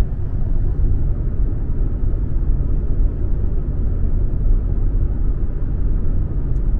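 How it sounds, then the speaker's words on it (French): Cabin of a Peugeot 308 PHEV 180 plug-in hybrid cruising at 110 km/h on a motorway: a steady, continuous low road and wind rumble, even and moderately loud throughout, with no voices. "110 km/h en micro d'ambiance sur l'autoroute."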